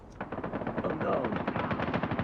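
Rapid automatic gunfire from the mobile shooter game COD Mobile in a team deathmatch, a steady burst of close, evenly spaced shots running the whole time without commentary.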